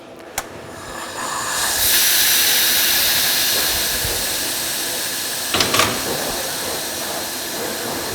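Compressed air hisses loudly and steadily as the main air supply at the FRL unit of a jamb routing machine is shut off, with a sharp click near the start and brief bursts partway through.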